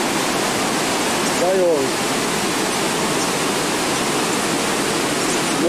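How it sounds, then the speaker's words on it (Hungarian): Steady broadband rushing of water through the Liechtensteinklamm gorge in Austria, loud and continuous throughout, with a brief voice rising over it near the start. "A víz mellettünk egyre hangosabb."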